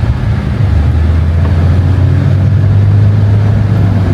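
A van test-driven through a neighborhood, its engine giving a steady, loud low drone from inside the cab with a constant hum and faint road noise throughout.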